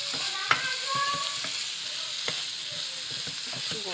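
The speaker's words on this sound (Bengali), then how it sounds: "একটুখানি ভাজা আলুটা একটু দিয়ে আলুটা দিই। দিয়ে একটু ভেজে নেই।" Potatoes frying in a pan with spice paste hiss steadily while a utensil scrapes and stirs in repeated clicks and taps, close up and moderately loud, with no voices.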